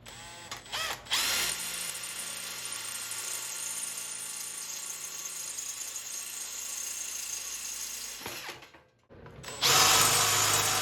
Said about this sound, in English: use a 3/16 drill bit to drill our main holes